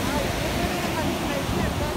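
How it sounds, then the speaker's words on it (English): Ocean waves break on a beach at Kuzhupilly, a steady close wash of surf mixed with wind buffeting the microphone, brief and without clear talk. "The waves."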